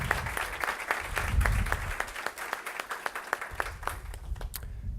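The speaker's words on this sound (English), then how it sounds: "let's give an applause" Audience applause following a startup presentation, a sustained burst of many hands clapping with crisp claps, swelling early then thinning and fading out at the end.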